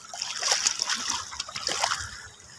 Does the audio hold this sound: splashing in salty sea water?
yes